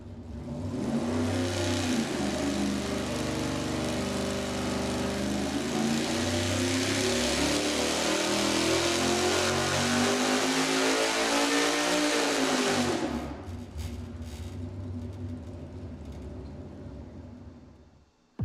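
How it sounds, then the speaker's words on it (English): A high-performance engine on a dyno runs a fast 600 RPM-per-second pull with lightweight rotating components, a loud sustained rev climbing steadily for about thirteen seconds before cutting off and winding down. "Next up, the faster run, 600 RPM per second with the lightweight components."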